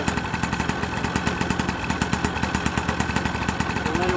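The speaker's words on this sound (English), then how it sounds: "Just trying to demonstrate that it's kind of barely spinning the propeller." A Vittorazi paramotor engine idles steadily up close, its fast even pulsing buzz barely turning the propeller, loud and continuous throughout.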